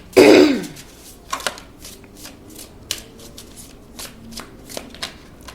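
A Ghost Tarot card deck is shuffled by hand, one quick riffle burst at the start followed by a series of soft taps, slides and light card snaps up close.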